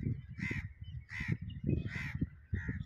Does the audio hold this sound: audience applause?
no